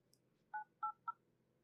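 Three short, faint telephone keypad tones beep in quick succession as a phone number is dialed, with quiet background hiss between them.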